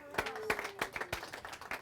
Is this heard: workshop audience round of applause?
yes